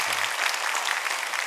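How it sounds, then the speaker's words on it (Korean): A church congregation breaks into warm applause during a Sunday service, many hands clapping in an even, close wash that lasts a moment and carries no spoken words. "위로의 박수 한번 해주셔요"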